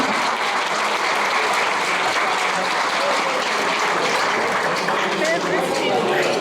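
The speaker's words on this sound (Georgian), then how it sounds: "მივეცალოთ აპლოდისმენტები" Wedding guests applaud at a Georgian wedding reception, steady dense clapping filling the room for the whole stretch, with voices mixed into the crowd noise.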